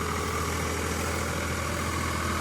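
A Swaraj 744 FE 4WD tractor runs in a muddy field at 1600 RPM in second low gear, giving a steady, continuous low diesel drone with even vibration throughout and no pauses.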